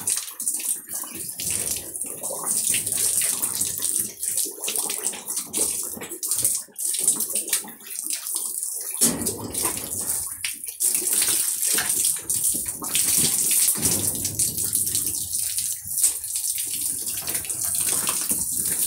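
Water is poured and splashed steadily while a pig is being bathed, a continuous rushing spray that briefly pauses midway, with no talking.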